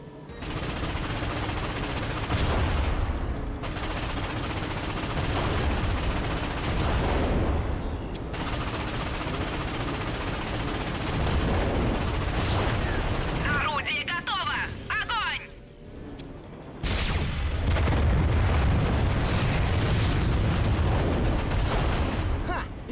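Ion cannon fire and explosions in the Ratchet & Clank video game on PS4 Pro make a dense, loud barrage of blasts and rapid gunfire, pausing briefly near the middle before the booming resumes.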